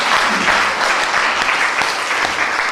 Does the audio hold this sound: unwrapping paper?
no